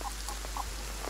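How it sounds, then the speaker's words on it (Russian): A chicken wandering in the survival video game Will To Live Online gives a few quiet, short clucks spaced irregularly over a low steady hum, with no talking. "Слушай, курочка там ходит, курочка."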